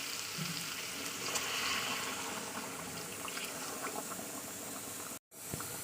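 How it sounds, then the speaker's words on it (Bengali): A fish curry with tomato, cooked with green chilli and onion, bubbles and boils vigorously right after hot water is poured in, a steady close-up rolling simmer that runs for several seconds and then cuts out briefly. "যেহেতু আমি গরম জল দিয়েছি সেই কারণে দেখতে পাচ্ছেন সঙ্গে সঙ্গে ফুট ধরে গেছে"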